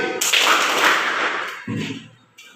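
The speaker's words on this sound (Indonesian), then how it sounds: "Tepuk tangan 2 kali" Sharp hand claps in a classroom-style concentration exercise, a loud burst near the start followed by a second clap after a short pause, then a faint tap at the end.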